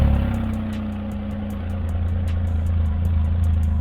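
A 2022 Can-Am Ryker Rally idles with its stock exhaust, a low steady engine rumble close by with a slight swell partway through, no voices over it.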